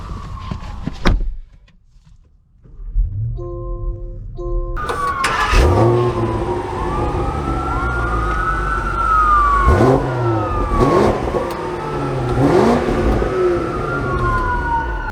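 A 2022 Land Rover Range Rover V8 starts and revs, then pulls away, its pitch rising and falling through several gear changes, loud and close.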